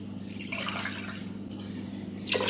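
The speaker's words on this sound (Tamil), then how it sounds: "தண்ணி 2 டம்ளர் ஆட் பண்ணிக்கிறேன்." Water splashing steadily into a pot for coconut milk rice, a continuous close pouring rush that swells louder near the end, with no talking.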